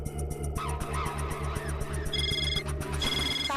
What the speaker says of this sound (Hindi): तारक का फोन।